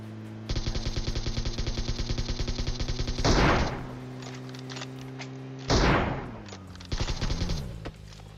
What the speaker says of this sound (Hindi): लेकिन थोड़ा दूर जाने के बाद दोबारा से गोली चलाते हैं ये लोग